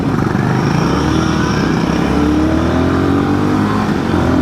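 A Royal Enfield Guerrilla 450 motorcycle accelerates through second gear on a road ride, its engine note rising steadily and loud throughout, with wind noise and no talking.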